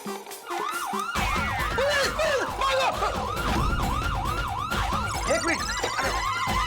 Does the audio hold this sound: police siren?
yes